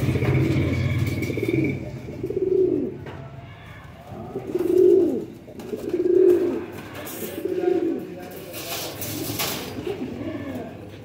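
Firozpuri pigeons coo in a repeated series of soft, rounded low calls, about five bursts spaced a second or so apart, over a faint rumbling background.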